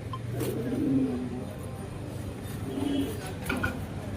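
Racing pigeons in a loft coo in low, soft bursts that swell twice and fade, with faint clicks and rustling nearby.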